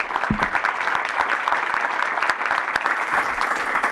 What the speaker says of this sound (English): Please a big applause for our panelists.